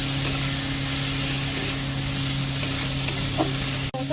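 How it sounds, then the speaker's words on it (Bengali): Fried beans, potato, eggplant and green chili being stirred in a pan, a steady close sizzle of frying with soft scraping of the spoon throughout and a few small clicks near the end. "দেখুন ভেজে রাখা সিম, আলু, বেগুন আর কাঁচা লঙ্কাটা দিয়ে দিচ্ছি, দিয়ে ভালো করে নাড়িয়ে নেব।"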